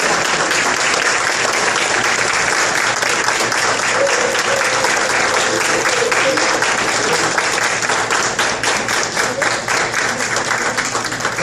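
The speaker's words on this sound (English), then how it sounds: "So I want us to all stand and give her a rousing round of" Loud, sustained applause from a standing audience at a family reunion dinner fills the room, a dense wash of clapping that holds steady throughout.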